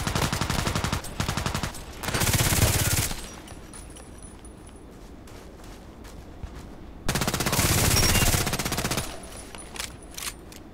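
Automatic gunfire from a first-person shooter video game, two loud sustained bursts of rapid shots separated by a quieter stretch of lighter game sounds, no talk in between.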